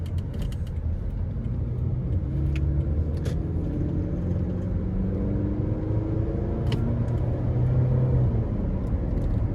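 2008 Toyota Camry SE with a 4-cylinder engine accelerating in second gear, a steady loud cabin drone with the engine note gradually rising in pitch, heard from inside the car with occasional light clicks.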